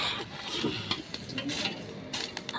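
Dry Kashmiri and Longi chillies roasted for homemade Satara-style black masala are stirred in a pan, giving a steady close scraping and rustling with light crackle and a few sharper scrapes, no voices.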